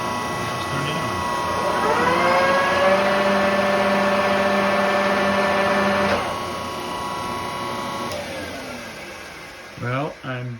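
A lathe spins a raw piece of round stock, a steady mechanical whir with a rising tonal hum that runs for several seconds, then winds down and stops, followed by a few brief knocks near the end.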